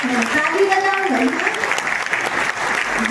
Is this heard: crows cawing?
no